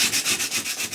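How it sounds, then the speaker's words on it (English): Sandpaper wrapped around a lollipop stick rubbed back and forth on wood, quick rhythmic scratchy strokes, about five in a second, close and fairly quiet. "a lollipop stick wrapped in sandpaper to help with the sanding"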